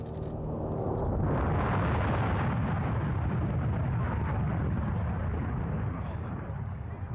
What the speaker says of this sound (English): It was a massive boom.